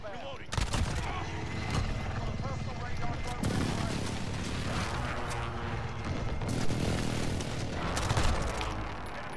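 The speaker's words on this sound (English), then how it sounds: "Friendly precision airstrike inbound" Precision airstrike explosions in Call of Duty Modern Warfare crash through continuous dense battle noise, with heavy booms and gunfire-like bursts rolling on loudly throughout and voices mixed in underneath.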